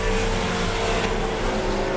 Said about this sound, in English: Another car to be lapped as they come through.